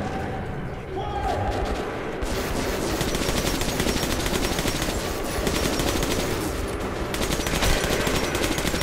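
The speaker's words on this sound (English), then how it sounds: "He got a plasma shotgun." Rapid bursts of plasma shotgun fire in the video game Metro 2033, loud and dense, keep going almost without a break under a steady wash of game noise.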